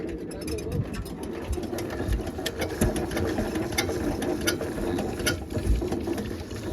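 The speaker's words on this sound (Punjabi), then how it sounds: "ਬਸ ਹੈਂਡਲ ਮਾਰਿਆ ਤਰ ਐਵੇਂ ਗਿਆ ਯਾਰ ਚੱਲ ਕੋਈ ਨਾ ਕਰ ਲੈਨੇ ਦੁਬਾਰੇ ਸਟਾਰਟ" An engine being hand-cranked beside a canal and failing to start, heard as a steady rapid mechanical clicking and rattling against constant outdoor noise, with faint bird calls.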